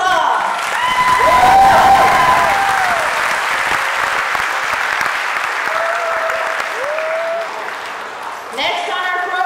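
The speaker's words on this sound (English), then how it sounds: "Let us give the graduates another big round of applause." Loud, sustained applause from a crowd honoring graduates at a college commencement ceremony, continuous clapping with scattered cheers and voices mixed through the full stretch.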